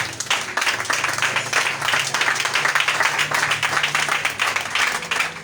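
Steady applause from a church congregation, a continuous mass of clapping at moderate level that holds throughout.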